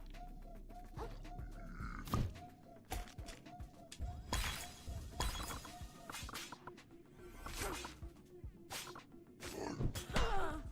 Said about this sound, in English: Crushing attack. Yeah, if that hits, the shell gets smashed.